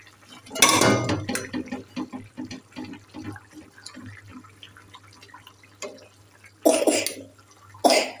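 A small girl with a cold coughs in a home kitchen during cooking, with one loud burst near the start and two more near the end, separated by quieter bubbling and clinks.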